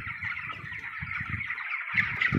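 Chickens grown fairly large on a poultry farm cluck and call in a busy chorus, overlapping low clucks under a steady higher chatter, close by with no talk.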